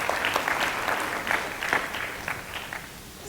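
A theater audience claps in response to a speaker at a TEDx talk, a dense burst of applause that holds steady for a few seconds before gradually thinning out.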